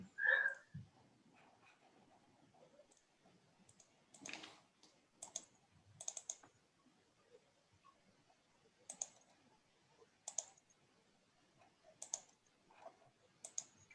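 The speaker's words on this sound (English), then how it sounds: "Frantic clicking of the mouse." A computer mouse is clicked rapidly in a quiet room, with sharp, irregular clicks in short bursts and gaps between them, close and faint, and no one speaking.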